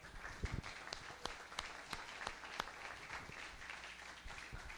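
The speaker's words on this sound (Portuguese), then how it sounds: "Pode aplaudir ao Senhor quem está entendendo." Faint, distant applause from a church congregation during a sermon, scattered claps rising over a soft, continuous roomy patter.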